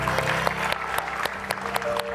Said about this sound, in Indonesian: Boleh tepuk tangan untuk Tera.